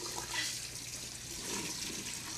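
Tap water runs steadily over beans being rinsed in a kitchen sink, a soft continuous splashing hiss heard alone.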